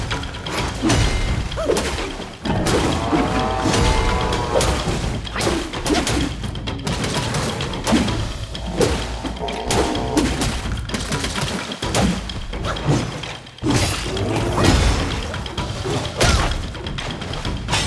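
Repeated heavy thuds and impacts of jumping melee attacks crash in quick succession over game music and effects in Black Myth: Wukong, punctuated by sharp hits and booms.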